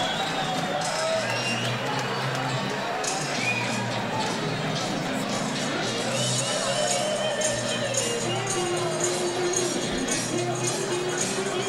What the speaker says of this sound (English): The Cheyenne, Wyoming crowd in unison on their feet.